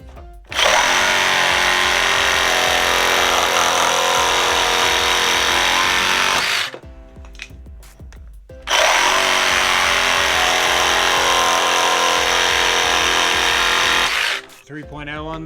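A Milwaukee M18 one-handed reciprocating saw on a 5.0 battery runs loud and steady in two long bursts of about six seconds each, with a short quiet pause between them.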